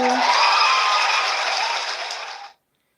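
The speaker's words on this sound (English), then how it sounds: "That is a welcome clap for you." Welcoming applause from an audience, a dense wash of clapping that stays steady for a couple of seconds, then fades and cuts to silence.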